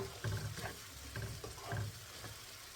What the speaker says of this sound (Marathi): आता अनियन आणि कॅप्सिकम हा बरोबर फ्राय करायचा आहे